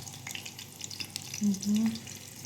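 Onions frying in a pan with spices, a soft steady sizzle with faint stirring and a few brief louder hums, fairly close and moderately quiet.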